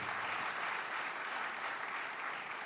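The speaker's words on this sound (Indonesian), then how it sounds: "Tepuk tangan buat Pak Prabowo dan Menteri Keuangan." Applause from the audience at a keynote session in Indonesia, a dense, continuous clapping that stays even throughout and is quite faint in level.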